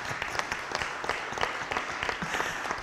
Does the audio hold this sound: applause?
yes